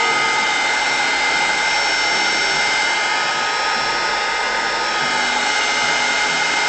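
A heat gun or hot-air tool blows steadily and loudly, a continuous broadband whoosh with a faint high whine, warming a piece of fan artwork so the medium can be rubbed in.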